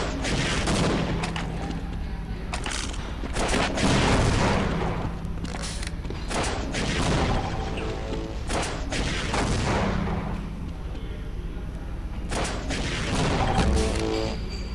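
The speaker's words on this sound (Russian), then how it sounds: "Расстреливает центр Дарк РПГшками" Explosions and gunfire from RPG rockets crash repeatedly in a Dota 2 custom game battle, dense loud booms and blasts rolling on over continuous in-game noise.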